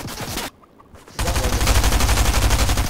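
Bursts of rapid gunfire in the video game Fortnite, loud and dense, cut by a short silent gap before a sustained stretch of repeated shots.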